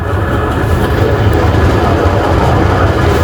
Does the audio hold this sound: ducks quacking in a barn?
no